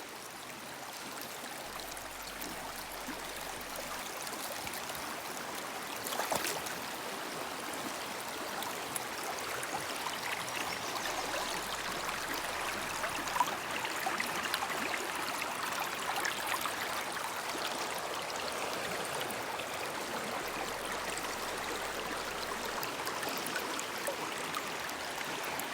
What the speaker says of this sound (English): I got to walk across the brook